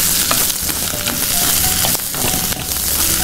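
Drumsticks, the moringa pods, fry in a pan, giving a loud, continuous close sizzle with occasional stirring scrapes and crackles.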